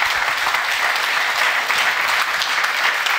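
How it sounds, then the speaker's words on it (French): A television studio audience applauds a guest named Kenny with dense, sustained clapping that stays loud and even from start to finish, with no voices rising above it. "Et on peut applaudir Kenny qui re-signe chez RTL l'année prochaine."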